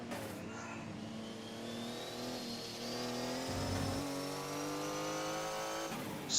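Race cars, including a Porsche, flat out at Brands Hatch during a 1984 World Endurance Championship 500 km race: a sustained engine roar with rising pitch as revs climb, steady and fairly distant, a second car joining near the end.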